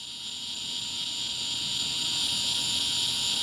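Insects buzzing outdoors in Florida, a continuous high-pitched droning hum that stays steady and slowly swells a little, heard alone with no talk.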